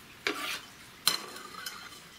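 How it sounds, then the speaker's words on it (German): Chopped onion tipped into a pan of carrots in a medieval-style kitchen, with two sharp scraping clatters of a utensil stirring against the pan and a faint rustle between them. "Dann geben wir die Zwiebel zu den Karotten dazu."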